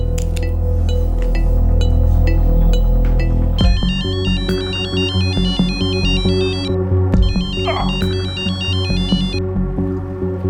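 A phone ring plays loud and alone during a call in a crime drama, repeating as a bright, steady electronic tone over a sustained musical backing.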